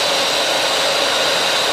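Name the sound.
Bissell liftoff carpet cleaner switched on, running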